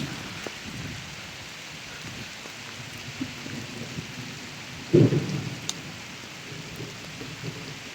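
Steady rain falls on a dragon fruit farm throughout, with a deep rumble of thunder that swells briefly midway before fading back under the downpour.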